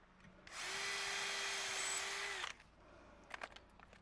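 A power drill bores a second hole for a gate latch, running in one steady two-second burst up close, followed by faint handling clicks.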